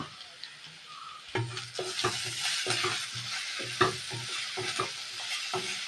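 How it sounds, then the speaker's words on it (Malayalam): Onion, ginger and garlic sizzle in a pan as they are stirred together with mashed cooked tapioca, a continuous close frying hiss broken by repeated soft scraping and tapping strokes of the spoon, with no talk. "സവോള ഇഞ്ചിയും വെളുത്തുള്ളി എല്ലാം നല്ലപോലെ വഴന്ന് അതിനകത്ത് നമ്മൾ കപ്പയാണ്."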